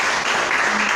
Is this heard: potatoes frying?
no